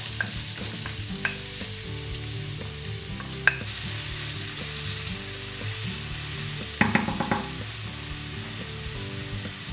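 Garlic and then onion frying in a pan of oil for a vegan seafood paella, a steady close sizzle with occasional stirring scrapes and two sharp clinks of a utensil against the pan.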